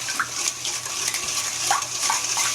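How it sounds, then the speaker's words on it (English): A whisk working wet ingredients together in a bowl for strawberry bread, a steady clattering, sloshing stir close up, with no talking. "Now we're just going to take a whisk,"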